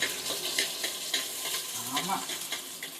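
Garlic and onion frying in a pan as the base for a fish curry, a dense continuous sizzle with rhythmic scraping stirs throughout, close and loud.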